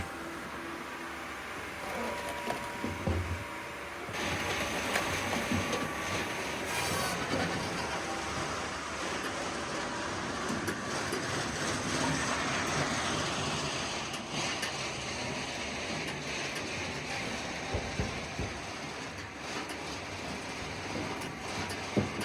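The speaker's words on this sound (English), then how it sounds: "Andrew from Eastonmade fired up the 48C, which is always fun to watch this machine run" An Eastonmade 48C log splitter runs steadily for the whole stretch, with a continuous mechanical rumble and hum and occasional louder clanks and knocks.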